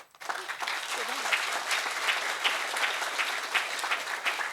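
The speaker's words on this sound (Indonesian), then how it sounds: "Kalau kita kepengen umurnya panjang, penyakit juga sembuh, tepuk tangan sekeras-kerasnya." Loud, sustained applause from a crowd at an Indonesian religious gathering, starting abruptly after a brief pause and continuing as a steady rush of clapping with faint voices mixed in.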